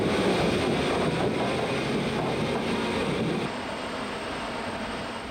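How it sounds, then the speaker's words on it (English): An Antonov 124, a huge transport plane, arrives at Calgary airport with a loud, steady jet engine roar that drops slightly in level partway through, and no voices are heard. "the world's largest commercial transport plane arrives at the Calgary airport"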